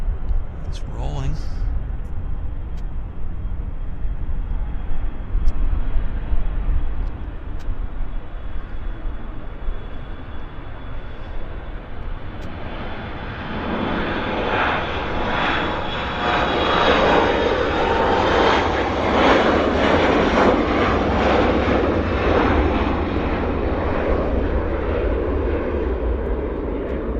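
A jet airliner takes off from Vancouver Airport and climbs out, a broad engine roar swelling loud midway and holding steady as it departs, heard from outside the airport.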